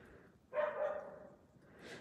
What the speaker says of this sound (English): both of them are barking